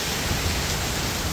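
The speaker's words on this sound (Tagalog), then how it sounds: "At least ito merong ulan." Steady heavy rain during Typhoon Mando in Ilocos, a dense, continuous hiss of downpour that fills the whole moment evenly, with no voices.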